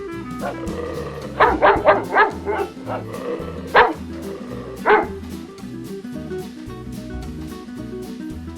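A dog barks nearby in a quick burst of four or five yips, then gives two more single barks a second apart. A steady low hum runs underneath and no one speaks.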